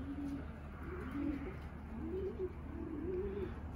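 A bird coos softly and repeatedly in a low, rolling rhythm over a steady background hum, somewhat distant and faint, at a pigeon loft in Texas.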